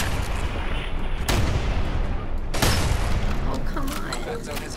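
Gunfire during a Fallout 4 fight against an Assaultron robot: loud sharp shots crack out at intervals over a constant rumbling battle din.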